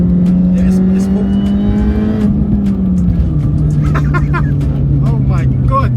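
A supercharged 1.6-litre Mini Cooper S R53 tuned to 250 bhp drives hard on a B-road, its engine droning steadily and shifting pitch as revs change, loud and continuous, with voices talking over it inside the car.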